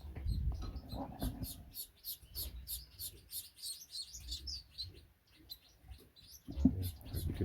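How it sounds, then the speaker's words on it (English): Birds feed in a bird shed, giving repeated quick high chirps and pecking sounds close by, with soft shuffling and low thumps between them. "you can hear them feeding there."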